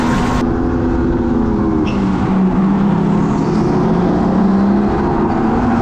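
Go-karts racing on a track at a Grand Prix round in an indoor entertainment venue, a steady, loud engine drone that holds throughout without a break.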